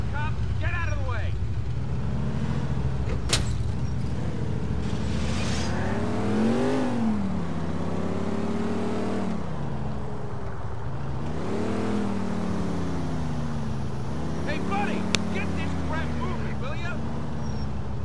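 Hummer engine in GTA IV driving steadily, a loud continuous drone that rises and falls in pitch as it speeds up and slows, with talking over it.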